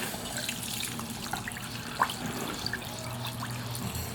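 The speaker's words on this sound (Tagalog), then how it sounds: "Tapos, ito naman tubig." Tap water poured into a cooking pot while preparing a dish with whole peppercorns and salt, a steady close trickling and splashing that runs the whole stretch with a small clink midway.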